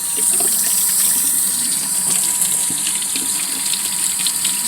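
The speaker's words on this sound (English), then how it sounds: "Just going to rinse out." Running water from a sink tap rinses bleach out of dreadlock tips, a steady, close hiss that continues throughout with no talk.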